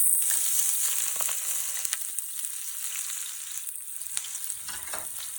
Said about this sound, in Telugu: తర్వాత కట్ చేసుకుని ఆనియన్స్ వేసుకొని ఫ్రై చేసుకోవాలి